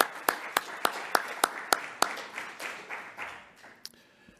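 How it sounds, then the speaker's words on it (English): At a society business meeting, applause for abstract contributors and prize winners starts with a few sharp, evenly spaced claps up close, thickens into scattered clapping, then tapers off. "So let's have a round of applause for all of those who contributed abstracts and presented, and especially for their 2 prize winners."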